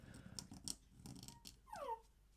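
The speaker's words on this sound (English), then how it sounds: "And that's my dog yawning." A pet dog gives a short yawn with a rising whine at the end, close and fairly quiet, alone indoors in a home drawing studio in England.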